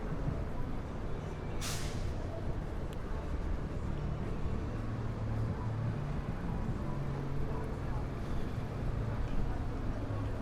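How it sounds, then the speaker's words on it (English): Steady, faint street traffic rumble on Canal Street in New York's Chinatown, a continuous wash of engines and road noise with a short sharp air-brake hiss near the start. "that's the sound of New York"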